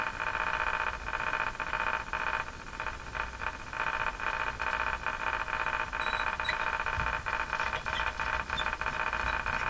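Noisy AM radio hiss from a General Electric KL60 tube radio, with a faint, muffled broadcast buried under static, crackling and pulsing throughout at a steady level.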